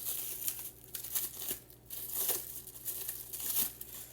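Plastic packaging crinkles and tears as pre-wrapped bacon is pulled out in a home kitchen while making breakfast, a few close rustling bursts with short pauses.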